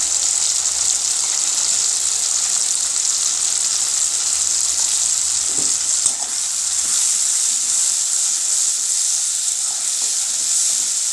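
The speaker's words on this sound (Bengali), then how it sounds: "তো পেঁয়াজটা ভাজা ভাজা হয়ে গেছে, এবার আমি এতে টমেটো বেটে রেখেছিলাম সেটা দিয়ে দিলাম, আদা রসুন বাটা" Fried onions sizzle in a pan with ground tomato and ginger-garlic paste, giving a steady, close, bright hiss with small crackles and stirring bumps and no talking.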